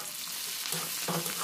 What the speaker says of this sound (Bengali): রসুনটা দিয়ে হালকা নাড়াচাড়া করে নিতে হবে।